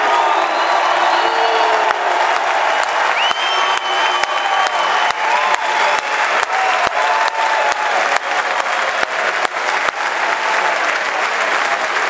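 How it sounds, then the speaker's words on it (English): A large crowd at a Georgia Republican convention fills the hall with sustained applause and scattered jeering that may include boos, a dense, loud wash with no pauses. "You can hear Ron Paul people booing."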